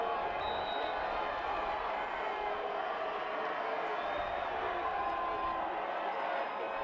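A stadium crowd at a Penn at Harvard college football game keeps up a dense, continuous roar of cheering and chatter, with a commentator speaking over it.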